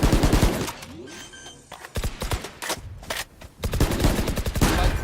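Rapid bursts of automatic gunfire from the Valorant shooter game, loud close volleys broken by short pauses, with no talk over them.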